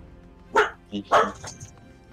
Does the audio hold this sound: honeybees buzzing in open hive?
no